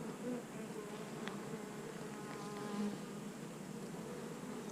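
Black honey bees, likely part Caucasian strain, buzz steadily around a crowded hive, a dense close drone with individual bees whining past.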